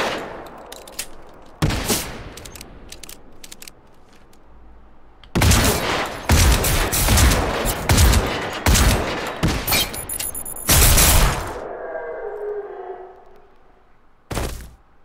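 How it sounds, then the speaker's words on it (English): Gunfire in the game Generation Zero, a shotgun among it: bursts of loud, close shots in clusters separated by short pauses, with one rapid sustained volley in the middle and a final lone blast after a quiet stretch. "That's pretty good range for a shotgun."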